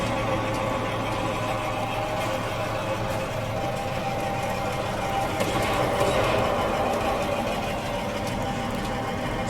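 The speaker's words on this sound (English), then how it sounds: "The sound is the sound of an old tractor, as we call it here, like a harvesting, like a farmer's tractor" An old farm tractor engine runs steadily throughout, a continuous loud mechanical drone with a dense low rumble and no pauses.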